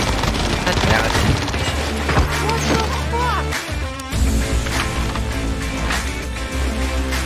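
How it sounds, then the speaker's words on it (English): Gunfire in the battle-royale shooter Call of Duty: Modern Warfare Warzone, dense repeated shots and bursts mixed with game music and effects, loud and continuous, with a player's voice over it. "That was gunfire."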